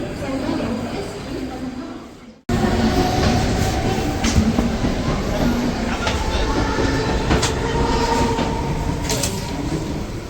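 A train arrives at a station, rumbling loudly nearby with steady rail noise and clattering wheels, after a brief lull at the start; a voice speaks faintly underneath.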